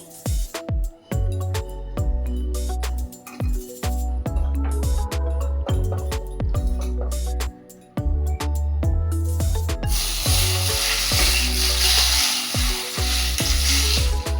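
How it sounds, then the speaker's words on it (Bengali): A prawn and ridge gourd mixture hits a hot wok and breaks into a loud, dense sizzle in the last few seconds, after a stretch of rhythmic music with sharp hits. "কড়াইটা গরম হয়ে গেছে এর মধ্যে আমি মিশিয়ে দিচ্ছি"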